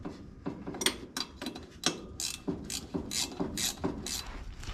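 A ratchet wrench snugs bolts on a 1966 Ford pickup drive shaft, giving a close series of quick ratcheting clicks in short uneven bursts.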